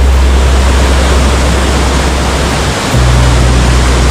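A mountain stream rushes steadily at a small water crossing on the trail near Kedarnath, a loud, unbroken wash of flowing water close by with no voices.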